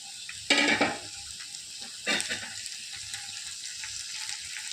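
Onions sautéing in a pan until partly softened, a steady soft sizzle with two louder bursts of stirring and scraping early on, close and without talk.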